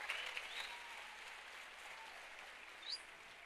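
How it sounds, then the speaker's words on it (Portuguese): A church congregation claps at an evening service, a soft, distant patter of applause that swells briefly and then fades, with no speech over it. "Você pode aplaudir o Senhor nessa noite?"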